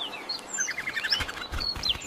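Small birds chirp and tweet in an animated Bible story, with a run of bright, quick calls overlapping close by against a soft background.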